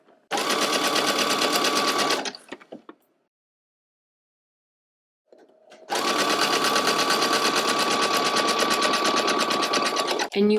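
Sewing machine stitching clear elastic onto knit fabric, running in two long steady bursts with a pause of near-silence between them, loud and close.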